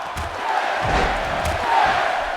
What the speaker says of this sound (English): Getting the crowd into it as Bryan tuning up for that huge kick